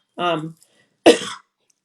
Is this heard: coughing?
yes